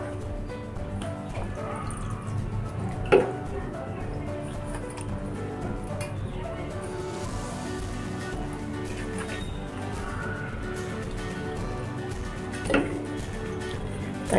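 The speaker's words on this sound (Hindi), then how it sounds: "थोड़ा थोड़ा कर डाल के इसको इस तरह से हिला हिला के धो लेंगे" Soaked sabja (basil) seeds being rinsed and swirled in water for mango sharbat, heard as steady, soft sloshing and dripping water close by, with a couple of louder splashes.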